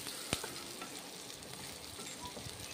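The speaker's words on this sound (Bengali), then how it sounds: "সরষের তেল দিয়ে ভেজে নিচ্ছি পেঁয়াজগুলো" Onions frying in mustard oil give a soft, even sizzle, quiet and close, with one sharp utensil tap early on.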